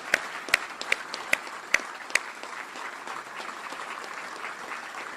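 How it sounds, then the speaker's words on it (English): Audience applause at a US Army Cyber Command change of command ceremony, opening with a few sharp, distinct claps before settling into a steady, moderate patter of clapping from the crowd. "How about a big round of applause for the great Lieutenant General Maria Barrett"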